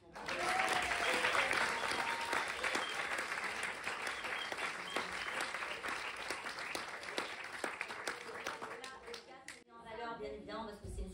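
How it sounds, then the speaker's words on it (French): An audience at an Activ'Attitude fitness show bursts into sustained, loud applause that stays dense and steady for several seconds before thinning out near the end, with a voice briefly heard at the close. "Donc encore un tonnerre d'applaudissements"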